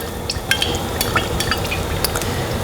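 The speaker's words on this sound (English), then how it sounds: "you hear that sizzle? That's how we know the pan was hot enough." A tilapia fillet crackles and sizzles steadily in hot olive oil in a pan over medium-high heat, with scattered sharp pops and spits throughout, close and continuous.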